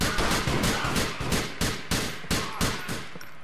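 Repeated gunshots ring out in a steady, rapid series of about a dozen sharp, loud cracks in a GTA 4 Lost and the Damned firefight, each one tailing off briefly before the next.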